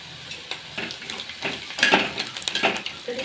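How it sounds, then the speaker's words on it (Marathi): Curry leaves with onion sautéing in a pan: a soft, low sizzle broken by the light clinks and scrapes of a spoon against metal, close but quiet. "कढीपत्ता परतून घेऊया."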